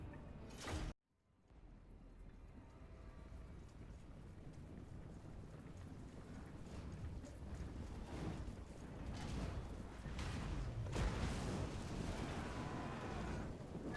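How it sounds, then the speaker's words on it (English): Cannon fire and battle noise from Total War: Warhammer 2, a dense, continuous roar of booms and rumbling that swells louder toward the end, following a sharp burst and a brief silence near the start. "I love that cannon."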